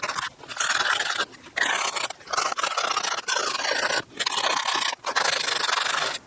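Sandpaper scraping rust from the rear wheel hub of a 2013–2017 Honda Accord during a wheel bearing replacement, close rasping strokes in quick back-and-forth bursts with brief gaps.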